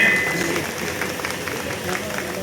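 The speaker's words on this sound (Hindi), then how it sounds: "जोरदार तालियां एक बार बच्चों के प्रोत्साहन के लिए" Applause for children at a community annual function, a continuous dense crowd clapping heard throughout with some voices underneath.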